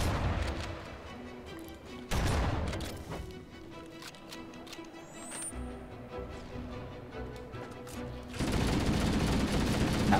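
Rocket launcher blasts and weapons fire in the video game Halo CE: a heavy broadband burst near the start and a sustained loud barrage at the end, with quieter combat rumble and tones in between.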